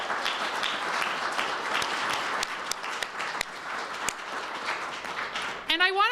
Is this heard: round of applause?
yes